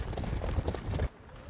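Harness racing horse's hooves clip-clopping at a steady trot, fairly close and loud for about a second before cutting off to a quiet background.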